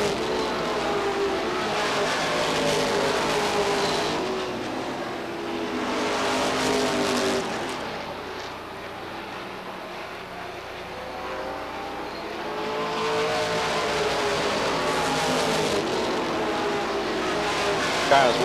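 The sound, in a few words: race cars lapping at Beech Ridge Motor Speedway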